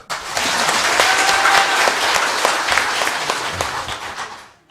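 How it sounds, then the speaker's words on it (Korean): Warm applause at a Korean public-housing policy forum, a dense wash of clapping from the assembled audience that swells quickly, holds steady for several seconds, then fades out. "박수 한 번 더"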